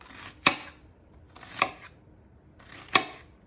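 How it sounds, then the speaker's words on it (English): Three crisp knife chops through onion strike a cutting board at a slow, even pace, each a sharp broadband click with quiet room noise between. "We're going to start by chopping up some onion"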